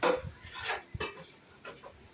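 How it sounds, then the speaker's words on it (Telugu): A metal lid clanks onto a pot of mutton boti curry with a short sharp knock around the middle, amid soft clinking of kitchenware. "మూత పెట్టాలి మళ్ళీ"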